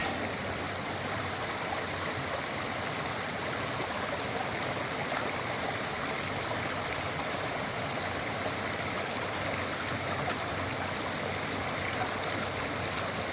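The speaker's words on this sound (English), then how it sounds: "Start today with a river crossing." River flowing at a trail crossing on the Appalachian Trail in New Hampshire, a constant broad rushing and gurgling of water close by, steady and unbroken with no talk.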